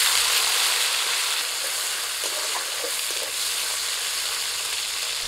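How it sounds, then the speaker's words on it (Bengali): Chopped tomato goes into hot mustard oil with tempering spices and sizzles and fries vigorously in a pan, a dense, steady crackle heard close up and alone. "ফোড়নটা ভাজা হয়ে গেছে, এখন এর মধ্যে দিয়ে দিচ্ছি টমেটো কুচি।"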